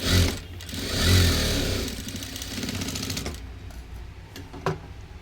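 A sewing machine runs close up while a second tuck is stitched into a size-40 four-tuck blouse, a steady mechanical whirr that surges and eases in two bursts, then winds down to quiet clicks and handling.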